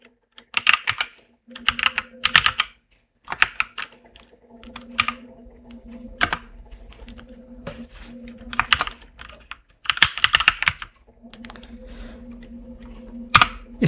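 Bursts of typing on a computer keyboard while text is entered into a PowerPoint slide, rapid clicking clusters separated by pauses, close and fairly loud over a low steady hum.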